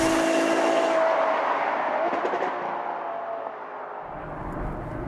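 A Ferrari FF sports car engine roars loudly while driving, a sustained strained note that rises and then fades as the car pulls away, followed by quieter road rumble.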